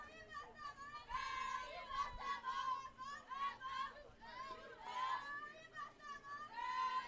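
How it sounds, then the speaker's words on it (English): At a Dixie Belles World Series softball game, the North Carolina team chants and cheers for their teammate at the plate. High, youthful voices rise and fall in rhythmic bursts, fairly faint and distant. "you can hear the North Carolina team cheering on their playmate at the plate"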